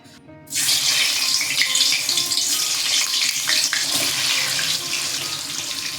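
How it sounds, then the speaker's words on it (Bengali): Potatoes drop into hot oil for a chicken curry and a loud, steady broadband sizzle of frying starts, running continuously close up with no talking. "আর এখানে আমার তেলটা গরম হয়ে এসছে। আমি প্রথমে আলুগুলো একটু ভেজে নেব।"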